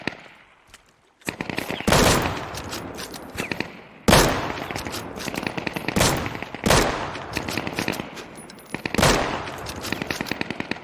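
Rifle gunfire in the survival shooter game Deadside, loud automatic bursts separated by short pauses, each volley cracking and echoing, starting after about a second of quiet.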